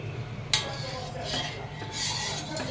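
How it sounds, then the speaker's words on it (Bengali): Sugar being stirred as it melts in a pan over a gas flame, a soft continuous scraping and rubbing with a few brighter utensil scrapes against the metal, steady and close with no talking. "চিনিটা যতক্ষণ না গলবে ততক্ষণ আমি এটাকে নাড়াবো"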